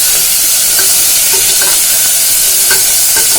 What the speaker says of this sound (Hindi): मैंने इसमें गाजर डाल दी है, और मैं इसको ना इस तरह से फ्राई कर रही हूँ गाजर को